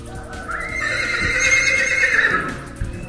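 A white, five-month-pregnant hybrid horse being loaded for transport gives a long, loud whinny that rises and wavers for about two seconds, with a few hoof clops and thuds underneath.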